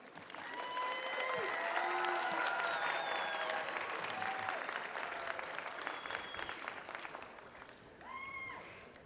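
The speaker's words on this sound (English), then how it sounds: "give a round of applause to those who are here today to celebrate your achievement" Graduation ceremony crowd applauding supporters, sustained dense clapping from a large audience with some cheering and crowd noise mixed in, holding steady for several seconds before easing slightly.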